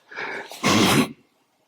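One forceful, exaggerated breath during a karate front kick drill: a breathy inhale followed by a louder, rushing exhale through the mouth, close and alone, then silence.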